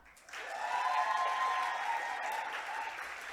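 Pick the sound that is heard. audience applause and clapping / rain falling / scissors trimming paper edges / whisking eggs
audience applause and clapping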